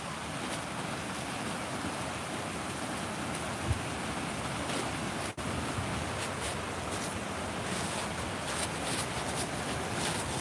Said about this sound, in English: Well, I got a little water going.